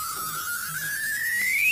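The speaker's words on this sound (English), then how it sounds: "So this humming thing in the background, that's actually a bunch of stars going around each other and producing a pure tone." Sonified gravitational-wave signal from orbiting stars: a steady pure tone that slowly rises in pitch, sweeping upward toward the end over a soft hiss, with no voices.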